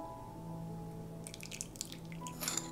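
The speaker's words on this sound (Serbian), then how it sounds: "Istopljen puter sipat ću u činicu." About 50 g of melted butter is poured from a pan into a small bowl in a home kitchen, making a soft, faint trickle and a few quiet drips over a low steady background, with no talking.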